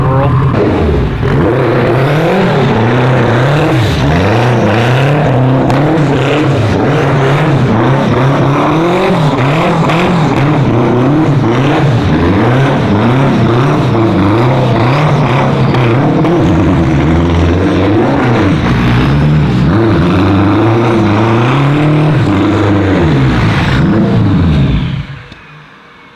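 A homebuilt car drives around a snowy parking lot, its engine loud and close, revving up and down in continuous rising and falling waves for nearly the whole stretch before cutting off at the end.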